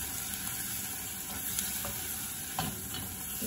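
Red pepper powder stirred into sautéed onion and tomato paste in a pan, a steady moderate sizzle with light stirring scrapes and occasional soft taps, no voices.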